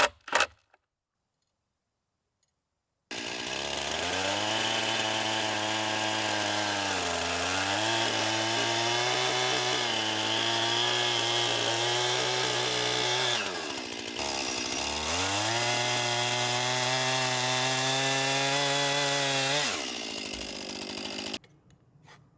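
A chainsaw cuts through a wooden post at a sawmill stand, starting after a few seconds of near silence, then roaring loud and steady for about sixteen seconds with a brief dip midway before winding down.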